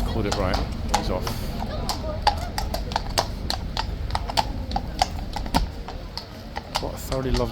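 A nervous horse at Horse Guards clip-clops away on hard ground, its hooves striking in a steady close rhythm over continuous outdoor crowd noise and voices talking.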